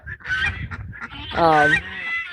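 Close, loud goose honks overlap in a brief, raucous cluster of nasal calls on a poultry farm.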